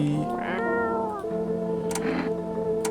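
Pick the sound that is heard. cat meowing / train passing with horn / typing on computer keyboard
cat meowing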